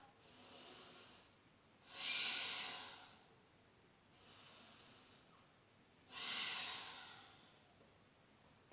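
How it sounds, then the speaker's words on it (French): Slow, audible yoga breathing by a lone person: four long breaths alternating quieter inhales with louder, hissing exhales, close and steady, with no talking. "On inspire, on expire."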